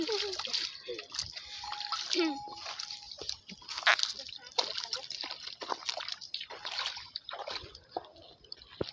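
People bathe in a pond, splashing and sloshing water close by in irregular bursts while women's and children's voices chatter and call out over the splashing.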